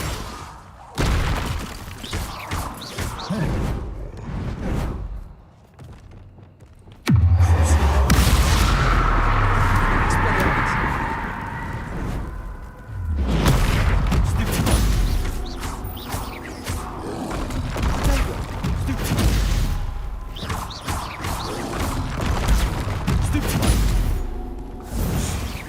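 Spell blasts, including Incendio and Descendo, go off in the video game Hogwarts Legacy as a loud sequence of booms and whooshes with a dense swell midway, while a voice shouts spell names over the action.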